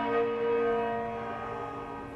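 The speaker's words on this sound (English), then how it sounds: "The sound of half-muffled bells greeted the arrival of the coffin at the steps of St Paul's" Half-muffled church bells toll at St Paul's Cathedral in London for a state funeral, a sustained ringing tone with a lingering hum that slowly decays, heard alone and moderately loud.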